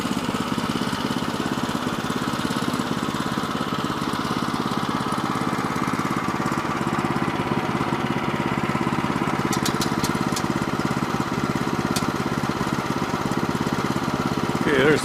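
A sawmill engine runs steadily and close by with an even mid-pitched drone, joined near the end by a few faint ticks. A voice is partly heard under the engine.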